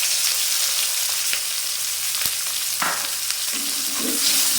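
Chopped onion and green chili sizzle steadily in a pan with whole spices, with scattered scraping clicks as a spatula stirs them through the hot oil.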